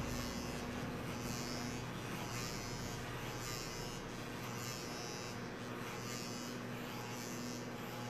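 An electric hair clipper fitted with a large guard cuts a fade with a tuft on top, giving a constant close-up buzzing hum that runs the whole time with faint pulsing as it passes through the hair.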